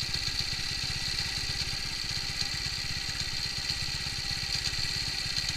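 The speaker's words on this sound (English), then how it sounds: "And also the engine is erratic." Motorcycle engine idling unevenly while its carburettor is being tuned, a close, steady low putter with a rapid pulsing beat and a faint metallic whine above it, running alone without talk.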